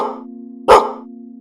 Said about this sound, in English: he barks back in retaliation